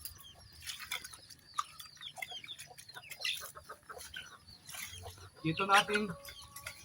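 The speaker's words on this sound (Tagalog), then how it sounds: "Ayan ang ating mga alagang manok" Pet chickens cluck and chatter in short, scattered bursts at moderate distance, with a louder squawk near the end, while people talk around them.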